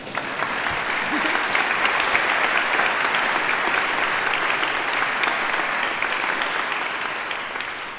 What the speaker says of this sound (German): Sie können ruhig noch mal klatschen.